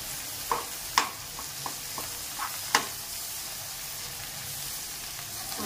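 Mashed tomatoes stirred and cooked in a pan for okra tamarind stew, heard as a few scattered spoon scrapes and clinks over a soft steady sizzle, with no voices.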